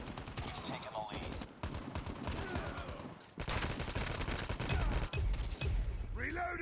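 Rapid automatic gunfire from an AK117 assault rifle in Call of Duty Mobile, dense bursts of loud cracking shots nearly continuous with brief gaps, alongside game voice callouts.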